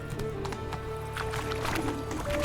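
Geralt's horse Roach gallops in The Witcher 3, hooves clip-clopping in a fast, steady rhythm under music, with a brief voice in the mix.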